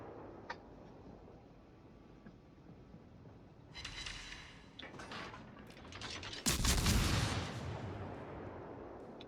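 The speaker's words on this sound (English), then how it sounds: "I want to keep firing at him just to see if I can set a permafire" Ship guns firing at an enemy in a naval video game, scattered booming salvos building to a heavy loud blast near the end over a low background rumble, no talk.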